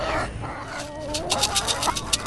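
Several chickens cluck and murmur close by, a steady busy chatter of hens with sharper repeated clucks toward the end.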